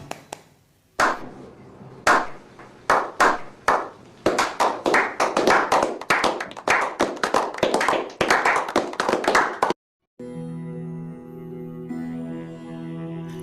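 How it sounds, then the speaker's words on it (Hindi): Sharp handclaps start singly and spaced apart, then quicken into a loose, irregular burst of clapping that stops abruptly, followed by a short stretch of tonal music. "वाह जी वाह, तालियां तालियां"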